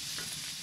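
Garlic sautéing in a hot pan gives a brief, steady, close sizzle with no talking.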